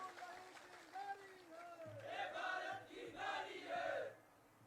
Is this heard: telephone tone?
no